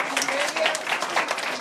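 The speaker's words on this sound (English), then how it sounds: "I want to give a big round of applause to Elizabeth" Audience applause at a paranormal convention announcement in the Molly Brown House, a brief burst of clapping mixed with voices, fairly close.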